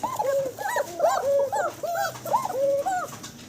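A fancy pigeon coos up close in a repeated, rolling series of soft, warbling calls, with no talk.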